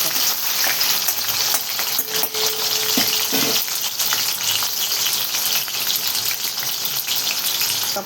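Potatoes and tomato with prawns sauté in a pan, giving a steady, close frying sizzle with a few brief stirring scrapes, and no voices.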